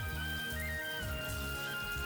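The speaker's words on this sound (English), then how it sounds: "Nutrients melted from botanical soil are poured down through the shower." Water showers down through the circulation system of an emersed Bucephalandra aquarium tank, pumped up from the bottom and falling like rain: a steady, close patter of droplets with a faint low hum underneath, no voices.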